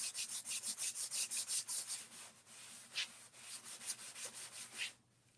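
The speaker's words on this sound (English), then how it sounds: "So you just wipe on, wipe off. And this is just some finishing surface wax." Finishing surface wax being wiped by hand onto a wooden surface, a steady series of close, rhythmic rubbing strokes, about a dozen back-and-forth swipes with a brief pause near the end.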